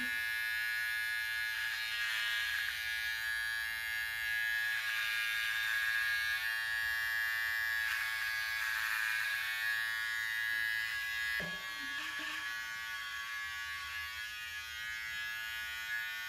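Close, constant buzzing of a Wahl electric trimmer, held at an angle while it cuts the side lines of neck hair; the tone dips and shifts briefly near the end as the blade moves.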